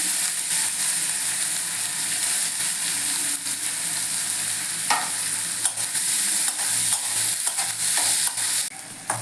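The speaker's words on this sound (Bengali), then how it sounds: "আমার পেঁয়াজটা ভাজা হয়ে গেছে" Sliced onions frying in a pan with dried red chillies and fenugreek for a pomfret curry, a loud continuous sizzle with frequent scraping and clattering stirs throughout.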